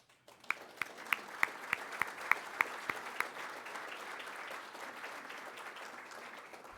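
A conference audience applauds sponsors standing at their seats, opening with a few loud, distinct nearby claps that merge into steady, dense clapping lasting several seconds.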